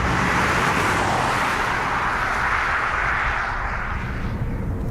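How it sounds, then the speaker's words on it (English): A BMW i8 hybrid sports car driving in electric mode, a steady broadband road and tyre roar filling the cabin with a faint gearbox whine from the front axle beneath it, continuous and fairly loud. "You can just hear a little bit of gear whine from the gearbox over the front axle"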